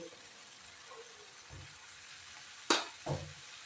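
Pathila thoran, a Kerala leaf stir-fry with turmeric and salt, sizzles softly in a pan while a spoon stirs it, giving a few scraping strokes and louder clatters over a low frying hiss.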